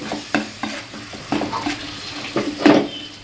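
A spoon scrapes and stirs tomato paste frying in hot oil in a pan, with soft sizzling under a series of close, irregular stirring clatters; no one speaks.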